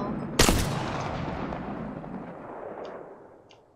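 A single loud gunshot from a long-range rifle in an online battle-royale shooter game, a sharp crack followed by a long fading echo, with a couple of faint clicks later.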